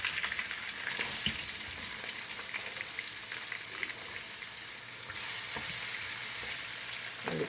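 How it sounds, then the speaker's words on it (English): Garlic and onion sauté in oil for Jamaican-style bok choy with saltfish, producing a dense, steady close-up sizzle that swells slightly near the end, with faint stirring scrapes underneath and no voices. "Let me kind of saute that a little bit in the oil."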